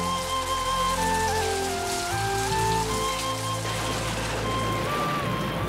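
Rain falls steadily in a loud continuous hiss, heard under a film soundtrack of sustained musical tones.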